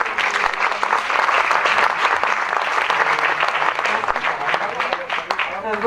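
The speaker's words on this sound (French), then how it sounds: "On peut les applaudir." An audience at a reception honouring medal-winning athletes in Saint-Sever claps steadily and evenly throughout, a full, continuous round of applause with faint voices mixed in.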